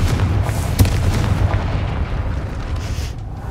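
A Confringo blast spell bursts against a gate in Hogwarts Legacy: a loud, deep rumbling boom with a sharp crack near the start, then a sustained roaring rumble that slowly fades.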